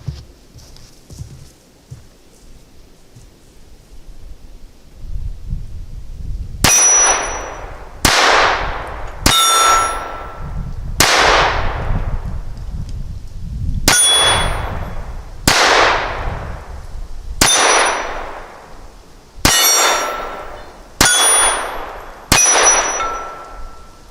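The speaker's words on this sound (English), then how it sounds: "So we're going to go back to 10 yards and fire it again." A Ruger LCP II .22 pistol fires at steel targets from 10 yards: nine sharp reports, each followed by a ringing clang of struck steel that decays, spaced a second or two apart, loud and alone.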